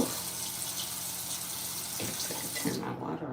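Water runs steadily from a tap in a sink, a continuous rushing wash that stops near the end, with faint speech in the background.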